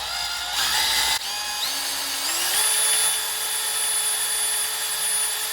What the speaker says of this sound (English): After about 10 to 15 minutes of drilling